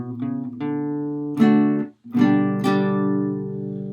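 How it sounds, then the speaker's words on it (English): Strummed guitar chords ring out clearly: one down strum on D, then a quick down-and-up pair on G, sustained and close, with no talking. "So it's 1 down strum on D,"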